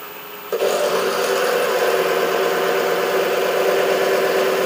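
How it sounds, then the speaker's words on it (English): A wood lathe turning at about 800 RPM starts up and settles into a loud, steady motor hum with a continuous droning whir. "reduce the speed of the lathe to about 800 RPM"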